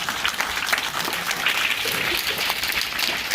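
Dense clapping fills a school Children's Day celebration in a village, an even crowd applause held close and steady throughout, with no clear voices above it.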